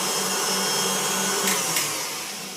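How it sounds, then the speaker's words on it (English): A KitchenAid stand mixer whisks pudding mix at fairly high speed, giving a steady, loud, dense whirring hum that holds evenly throughout with a slight tapering at the end, no voices. "I'm going to stop now because I'm using the KitchenAid and it's relatively fast"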